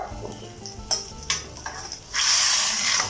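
Eggs frying in a pan: a few light clinks and taps of a utensil come first, then a loud, steady sizzle bursts up and keeps hissing close by.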